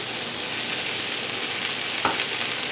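Chayote and tomato sizzling and frying steadily in a hot pan as they are sautéed, a constant close crackle with a brief stir clatter near the end, no voices.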